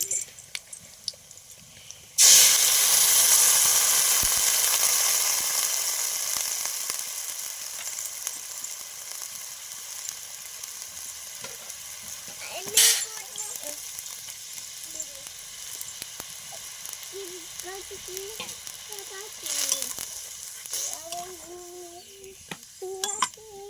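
Yogurt hits a hot pan and bursts into a loud, close hiss that slowly eases into a steady sizzle, broken by a couple of utensil clinks and scraping stirs.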